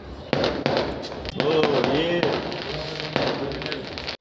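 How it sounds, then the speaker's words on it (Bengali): Firecrackers burst for a nearby wedding at night, a rapid string of sharp cracks and pops at moderate distance, with people talking and voices rising over the bangs. "আর এইদিকে দেখো কার বিয়ে হচ্ছে তাই বোম ফাটছে।"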